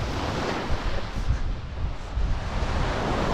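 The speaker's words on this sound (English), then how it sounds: "I'm on the beach in the Bahamas!" Ocean waves wash onto a beach in the Bahamas, a loud rumbling surge mixed with gusty wind buffeting the microphone, rising again at the end with no one speaking.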